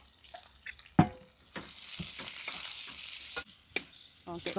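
Onions frying in a pan for Bangalore-style chicken donne biryani, a close sizzle with stirring scrapes and clinks over a few seconds.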